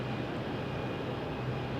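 A British Airways airliner heard at Phoenix Sky Harbor: a brief, steady, distant engine drone with a faint whine, unbroken and without talk.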